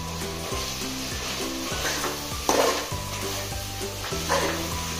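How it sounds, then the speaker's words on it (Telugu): Ginger garlic paste frying in a pan with salt and chilli powder for mutton keema pulao, giving a continuous sizzle with scraping strokes as it is stirred. One louder clatter comes near the middle, and steady tonal hum runs underneath. "అల్లం అడుగు పట్టకుండా ఈ విధంగా కలుపుతూ ఉండాలి."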